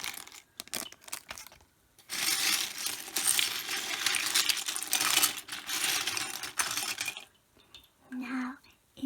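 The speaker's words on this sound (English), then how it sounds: "I like to sort my pieces before I begin building" LEGO pieces clatter and rustle as they are handled and sorted at close range, with soft clicks and shuffling, some brief pauses and a faint voice.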